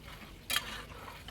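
A spice paste of cashew, melon seeds and curd is being sautéed for a cauliflower and fenugreek dish, with a soft, faint sizzle and one short, sharp scrape of a spatula near the middle.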